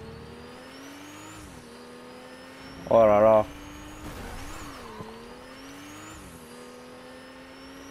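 Drifter car engine revving in Fortnite, a steady motor drone with rising and falling pitch sweeps, joined by a short burst of voice.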